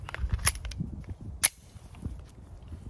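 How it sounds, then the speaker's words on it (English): Several sharp 9mm pistol shots from a Sig Sauer P365 X Macro Comp firing 147 grain jacketed hollow points at a range, with two loud distinct cracks standing out among lighter thumps and rustling. "All right, 5 more rounds down the range."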